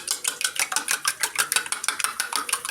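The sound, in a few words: beating eggs in a bowl for egg soup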